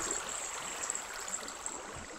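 A river in the Minecraft video game gives off a steady, soft rushing and trickling of flowing water. The wash stays even and continuous with faint gurgles and no voices.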